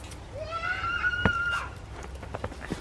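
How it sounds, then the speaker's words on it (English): Fans scream in the background of a video game, a single drawn-out shrill cry that rises and then holds steady over a low, constant hum, with one sharp knock partway through. "Our fans in the background are screaming this random dad name over and over again."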